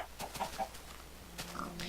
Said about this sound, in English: I'm sorry, chicken, you have to die.